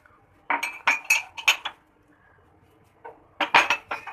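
Tea cups clink against each other and a saucer or tray as tea is served at home, two quick bursts of bright ringing clinks separated by a short pause, close and clear.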